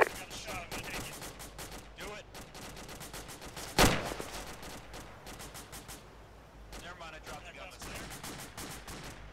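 Machine gun fire in Arma 2, a rapid series of dense bursts running through the whole stretch with one louder crack near the middle, under faint voices.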